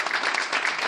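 Audience applause at a 2013 township committee and mayor campaign event in Manalapan, New Jersey: a short, steady burst of many hands clapping, loud and close, with no talk over it.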